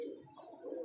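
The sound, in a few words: Firozpuri slate pigeon cooing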